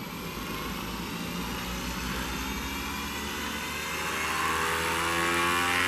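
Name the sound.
gyro turning inside Losi Promoto-MX RC dirt bike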